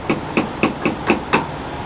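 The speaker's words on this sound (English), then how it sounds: "Looks like a few of them are loose, so I'm gonna have to grab the bar, tighten that on up." Ratcheting a flatbed truck's load strap winch tight with a bar gives six sharp, evenly spaced metallic clanks, close and fairly loud, with no voices.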